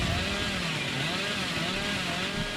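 Billy's chainsaw from the Dead by Daylight video game roars in a continuous, loud, buzzing engine drone that holds steady throughout with no speech.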